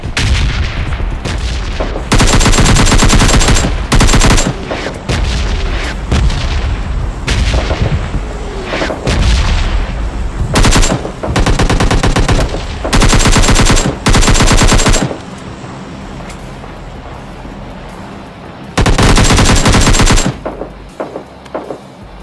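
Heavy bursts of automatic gunfire during a fight in PUBG Mobile Lite, loud sustained volleys several seconds long separated by brief quieter gaps, with no talking over them.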